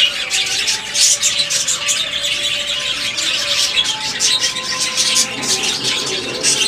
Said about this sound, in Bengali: এদিকে আছে ফিঞ্চ পাখি